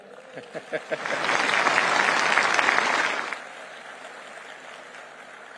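An indoor audience applauds during a speech at the Bharat Tex event at Bharat Mandapam, a few scattered claps swelling into a full burst of clapping that fades after about two seconds.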